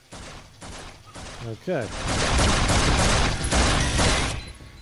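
Rapid, dense gunfire from a gun in the Flashback video game, a sustained loud burst after short electronic blips and a brief word from a speaker.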